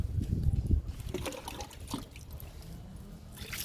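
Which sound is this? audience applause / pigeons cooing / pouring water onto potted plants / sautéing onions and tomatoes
pouring water onto potted plants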